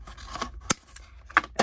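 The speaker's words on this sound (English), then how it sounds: "I'm just going to come along with the scissors and snap it off." Scissors snip a diecast toy piece off plastic packaging up close: several sharp, separate clicks and snaps over soft handling rustle, with no talking.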